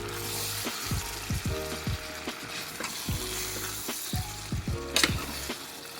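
A spoon stirs potato and aubergine curry frying in a pan, with soft sizzling under repeated scraping strokes against the pan, close and fairly quiet.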